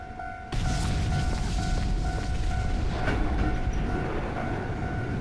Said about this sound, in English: Ghost train.